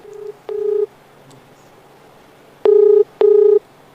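A telephone call to a lawyer goes through: a short tone, a longer tone, then after a pause two loud ringing bursts in quick succession. No one speaks.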